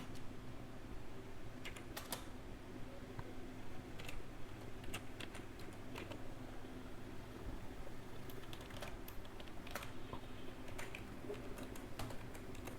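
Code is typed on a computer keyboard, the quiet, rapid key clicks continuing over a steady background hum.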